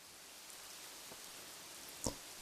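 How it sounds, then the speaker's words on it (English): Steady soft rain falling in the city-building game Kingdoms & Castles, a faint continuous hiss with one brief louder patter near the end. "Oh yeah, and sometimes it rains as well."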